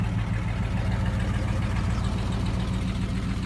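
A camper's engine idles in Farming Simulator 22, a steady low rumbling drone that stays even and continuous with no other sounds over it.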